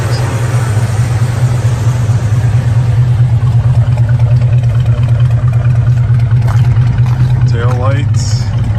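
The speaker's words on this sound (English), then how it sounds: "there you can hear the dual exhaust" A numbers-matching 350-horsepower muscle car with dual exhaust runs steadily at a low, throbbing idle, loud and constant throughout, with background chatter and crowd noise layered over it.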